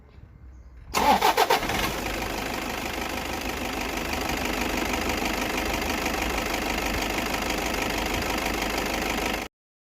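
A Toyota Vigo pickup's engine cranks briefly with a few rapid loud chugs, catches, and settles into a steady, close, even idle that runs until the recording stops abruptly.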